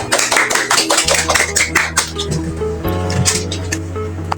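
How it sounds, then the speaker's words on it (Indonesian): Brisk, dense handclapping from students in a classroom, rapid claps filling the first few seconds before thinning out, with a lingering tonal hum underneath. "Dengan tepuk tangan dulu."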